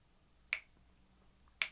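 Two crisp finger snaps about a second apart keep a steady beat, close and clear over quiet background hiss.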